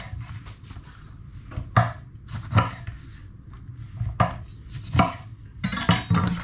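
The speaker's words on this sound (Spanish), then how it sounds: "Acá simplemente vamos a cortar las mandarinas por la mitad." A Santoku knife slicing mandarins in half on a cutting board makes crisp knocks and thuds at an uneven pace, with a dozen or so strikes over a low background hum, close-up and without talking.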